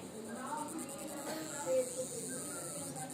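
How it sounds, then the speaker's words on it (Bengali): Crickets in green hill country at Sittong near Darjeeling make a steady, faint high-pitched drone throughout, with soft voices in the background. "এখনই ঝিঝি পোকা ডাকছে।"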